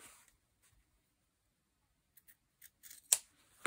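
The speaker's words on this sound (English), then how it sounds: "I'll just trim that off." Scissors trim fabric for a slow stitch journal cover in a quiet room, a few soft separate snips followed by a sharper, louder cut near the end, close and clear with no talk.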